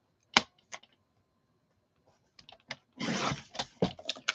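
Scissors cutting junk journal craft material, heard as a few sharp, close snips spaced apart, then a denser run of quick cutting and rustling near the end.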